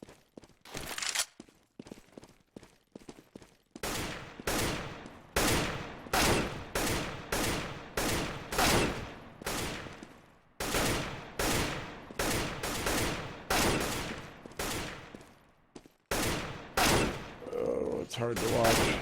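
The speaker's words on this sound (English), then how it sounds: "keep shooting the guys outside" Gunfire in a shooter video game: sustained automatic bursts and rapid single shots, loud and close, in repeated volleys broken by short pauses.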